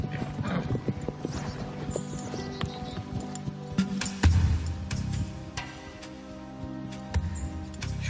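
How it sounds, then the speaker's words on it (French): Horses, a stallion with another horse, trot with steady clip-clop hoofbeats over a busy music score, a whinny rising briefly in the middle. "voilà Diablo, avec un autre cheval"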